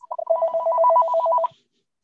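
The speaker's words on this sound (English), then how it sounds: "I thought my computer was ringing" A computer rings with an incoming call: a loud, steady electronic trill that warbles fast for about a second and a half, then cuts off into silence, with no voices.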